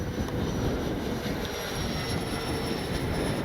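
A Freewing 80mm A-10 Thunderbolt RC jet making a speed-run flyby, its ducted-fan whine a loud, steady rushing roar that holds throughout with a thin high tone on top.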